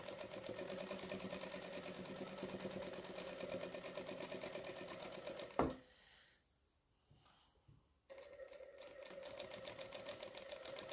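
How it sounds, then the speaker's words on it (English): A sewing machine doing free motion quilting stitches around appliquéd teddy shapes, running in a fast, steady rhythmic chatter, stopping abruptly for a couple of seconds of near quiet, then starting up again at the same pace. "So a couple of rows of this stitching."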